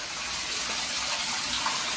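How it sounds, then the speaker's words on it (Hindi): Water streams steadily from a stone cow-mouth spout, the Gaumukh, into a temple kund pool, a continuous close rushing splash with no pauses. "गौमुख मतलब गाय का मुंह है, जिसमें से पानी 12 महीने पूरे साल पानी आता है"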